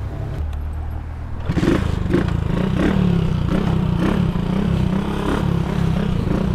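Yamaha MT-09 motorcycle engine starting up and rumbling at close range, a steady low throaty idle with faint clatter after a quiet opening, running alone without talk.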